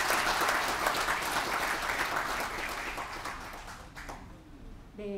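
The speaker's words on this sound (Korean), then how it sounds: "여러분 큰 박수로 환영해 주십시오." A crowd at a political campaign event applauds in welcome of newly elected council members and local figures, a dense, steady clatter that fades out near the end as a voice begins.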